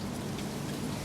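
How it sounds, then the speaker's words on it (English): Light rain falls steadily outdoors, a continuous even patter of drops hissing on surfaces nearby, with no voices. "Looks like it's raining a little bit."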